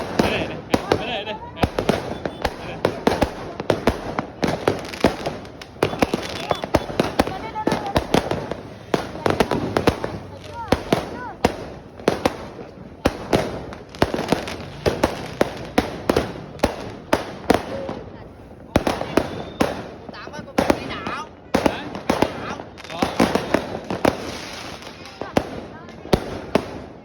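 Fireworks and firecrackers go off on New Year's Eve in the Vietnamese countryside: a dense, continuous barrage of sharp cracks and pops that stays loud throughout, with voices talking faintly underneath.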